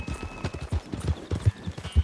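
Horse hooves clip-clop in Red Dead Redemption 2, a steady, close rhythmic trot of distinct thudding beats over faint background ambience, with no talk.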